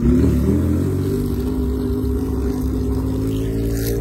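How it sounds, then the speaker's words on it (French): A Ferrari sports car arrives at the Tour Auto parc fermé in Carcassonne, its engine a loud, steady low rumble that holds close and continuous throughout with no voices. "Et là on voit une Ferrari, regardez, c'est une Ferrari."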